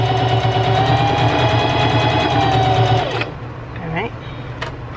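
A sewing machine stitches a zippered fabric scrunchie in a steady, even motor whir for about three seconds, then stops, leaving a few quieter handling sounds.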